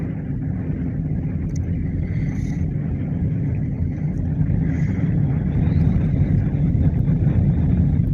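Steady wind roars and rumbles across open ground at night during a fishing outing, a constant low broadband wash that swells slightly louder toward the end, with no voices.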